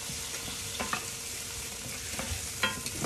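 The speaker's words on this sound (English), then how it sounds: "Softening the onion now." Onion softening in a frying pan for Kerala coconut fish curry, a dense, steady sizzle with occasional light stirring clicks, close and fairly quiet.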